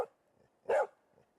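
A dog at a gate lets out a single loud, close bark, with faint snuffling or quiet movement before and after.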